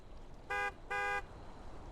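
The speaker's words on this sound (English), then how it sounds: "I hit E on it, it honks" Two short electronic car horn honks in a Friday the 13th video game, the second slightly longer, sounding over a quiet hiss of background noise.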